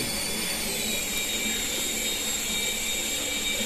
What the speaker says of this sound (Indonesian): helikopter tanpa di remote bisa terbang sendiri